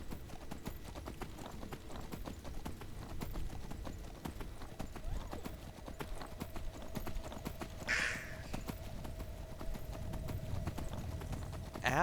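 Horse hooves clip-clop steadily in the Skyrim video game, a continuous rhythmic trot at moderate loudness, with a brief higher neigh-like burst near the middle and faint background ambience.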